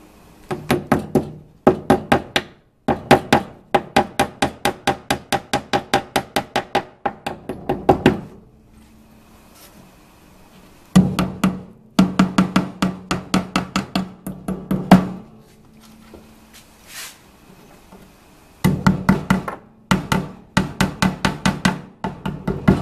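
Stainless steel nails hammered into larch wood for a beehive build, loud close bursts of rapid sharp blows separated by short pauses with faint handling sounds.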